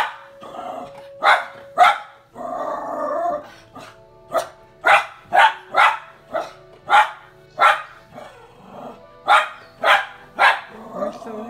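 A miniature pinscher barks excitedly while watching a movie: a long run of sharp, close barks, roughly one per second, with brief whiny yips and growly sounds between.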